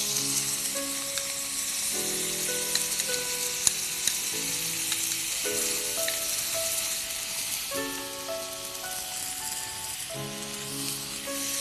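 French beans and other vegetables stir-fry with chicken in a pan, a constant crackling sizzle with faint rattling stirs running beneath background music.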